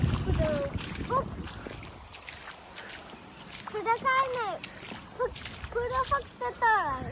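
Rainwater rushing over farm fields like a waterfall after an extremely heavy downpour, a steady broadband roar running throughout beneath someone talking.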